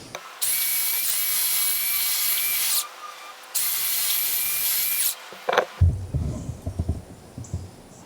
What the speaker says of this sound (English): I'll take the belt sander and shape this into a nicer, clean,